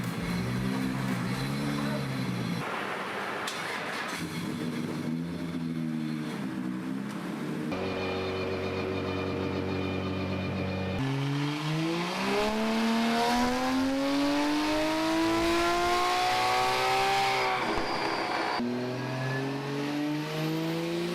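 Toyota A90 Supra with an 800 hp HKS-built engine on the dyno at the HKS Shizuoka factory, repeated loud revving bursts with rising and falling engine tones, climbing pulls separated by short drops, close and continuous.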